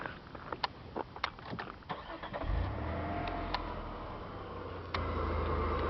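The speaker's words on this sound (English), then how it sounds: "I'm going to start up the engine." A 1999 Chrysler Sebring JXi convertible's six-cylinder engine cranks and catches after a few seconds of faint clicks and rustling, then settles into a steady low idle.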